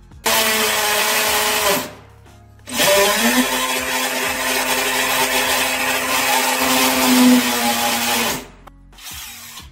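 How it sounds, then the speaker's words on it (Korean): A hammer drill bores into a bathroom wall while fitting a shower head holder, two loud sustained bursts of whining, grinding motor noise, close up, with a short pause between them and a brief restart at the end. "이제부터는 해머 드릴 모드로 해서 해보겠습니다."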